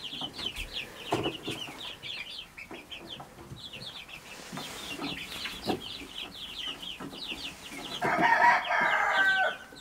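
Hens cluck and peep steadily nearby, and a rooster crows loudly near the end over the flock's chatter.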